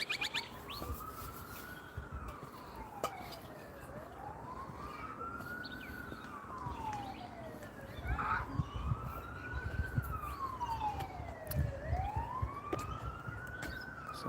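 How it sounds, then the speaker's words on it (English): A distant ambulance siren wails in slow rising and falling sweeps, repeating steadily and faintly over a dull outdoor background with occasional bird chirps. "Sounds like there's an ambulance going somewhere."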